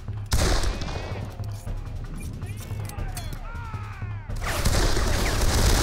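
A volley of gunfire in the video game Darkest of Days: dense, overlapping shots rattle continuously, with distant shouting voices mixed in and a louder burst near the end.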